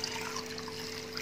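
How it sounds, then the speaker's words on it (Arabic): Water is poured into a cooking pot of tomatoes and chickpeas, giving a soft, steady running trickle that continues unbroken and fairly faint. "هزود بقى ميه"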